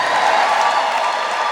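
A concert audience at a twentieth-anniversary show roars with sustained cheering and applause, a dense, loud, continuous wash of crowd noise with no pauses.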